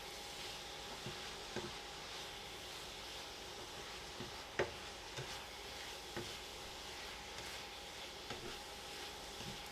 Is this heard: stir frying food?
yes